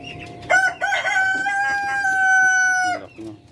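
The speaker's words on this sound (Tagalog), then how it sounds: "Dami ng manok." A rooster on a farm gives one long, loud, close crow lasting about two and a half seconds, with brief clucking from chickens just before and after.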